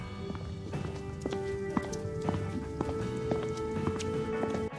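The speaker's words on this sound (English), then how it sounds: "Footsteps sound effect." Steady, evenly spaced footsteps tap along at a walking pace, fairly faint, over a continuous humming background.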